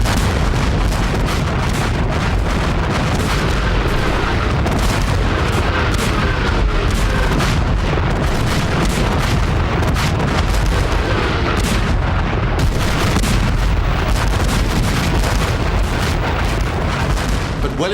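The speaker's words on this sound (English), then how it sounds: "246 French cannon started the bombardment." French cannon bombardment from 246 guns in a Napoleonic battle roars as dense, continuous rumbling booms, loud and relentless, with overlapping shots blending into one heavy wall of sound throughout.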